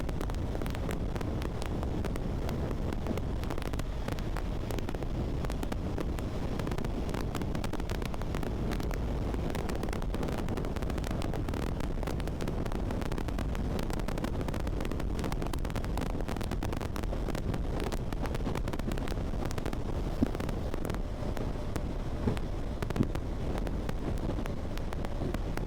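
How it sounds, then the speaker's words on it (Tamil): Heavy wind blast buffeting the microphone while riding a KTM Duke 390 motorcycle at around 80 km/h on a highway with no helmet, a loud, continuous roaring rush that never lets up, without any talking. "அவ்வளோ ஸ்பீடில் என்ன காற்று அடிக்குது."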